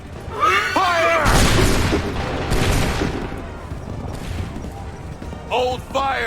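A musket volley in Assassin's Creed III: a loud, broad crashing burst of many shots fired together, with a second rolling blast close behind, amid shouted battlefield voices.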